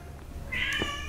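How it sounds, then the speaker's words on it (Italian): A house cat lets out one clear, drawn-out crying meow up close, with quiet room tone around it. "questo è il mio gatto che piange"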